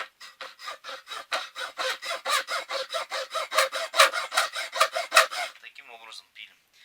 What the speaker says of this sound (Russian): Весь процесс пропиловки я не буду снимать